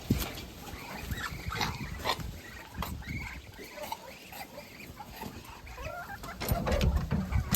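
Bantam chickens kept in a pen together with ducklings and other poultry cluck and chatter steadily and fairly close, with overlapping calls and some scuffling noise.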